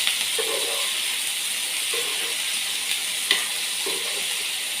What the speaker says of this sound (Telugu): ఇప్పుడు టమాటాలు కూడా వేసి ఉల్లిగడ్డ టమాటా మొత్తం కలిసేలాగా కలుపుకోవాలి